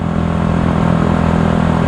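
Motorcycle riding at night through Mielec, its engine a steady loud drone throughout with no talk over it.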